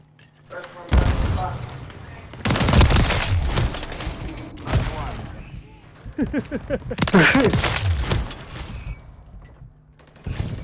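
Bursts of rapid gunfire from a gun in Call of Duty come in loud, dense volleys separated by brief gaps, with mechanical clicks between them and a voice talking over the action.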